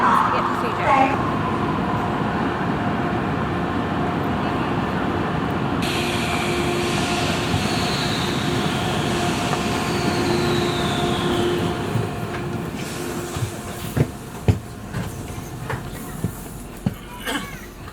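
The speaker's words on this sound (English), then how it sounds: "we're about to jump on the train" A CRH high-speed train at a Chinese station gives a steady low rumble and rolling hiss with faint clicks, and a short high whine rises partway through, while people talk over the noise.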